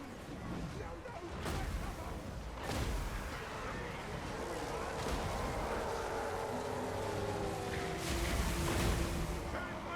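Weapon fire from Deathglow Bombardiers in the Total War: Warhammer 2 battle, heard as several sharp blasts over a dense, roaring battle din that stays loud and continuous throughout.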